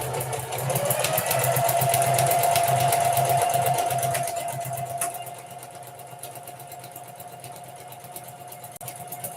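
A sewing machine runs steadily on tux pants, stitching buttonholes with a rapid mechanical whir and rattle that is loud at first, then quieter and lighter for the last few seconds.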